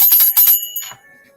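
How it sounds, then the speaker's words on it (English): A bright bell rings in a couple of quick strikes, then its tone fades out with a lingering ring. "Thank you for the bell."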